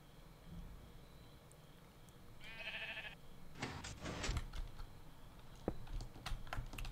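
Sheep bleat in a modded Minecraft game, heard as a single short wavering cry amid keyboard typing and scattered clicks, moderately loud and close.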